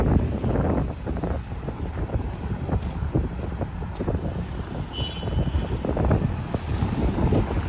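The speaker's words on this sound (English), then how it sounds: "a lot of wind here too, which is unfortunate because it's still quite cold" Gusty wind buffets the microphone on a cold downtown street in Regina, a steady roar that rises and falls in strong pulses with no voices.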